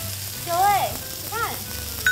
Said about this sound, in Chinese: 我现在就是要把每一面都煎上色